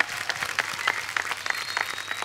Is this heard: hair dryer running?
no